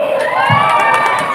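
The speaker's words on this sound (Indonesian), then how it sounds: "Tepuk tangan buat Bowo," A festival crowd at the closing of Tanjungpinang Fest 2024 and the Festival Kopi Merdeka cheers and shouts in a brief, lively burst, with high children's voices mixed into the roar.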